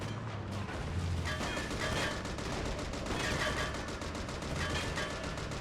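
A gun mounted on a captured vehicle in a beachhead battle video game fires a dense, sustained stream of rapid shots, loud and close, with mechanical clatter running underneath for the full stretch.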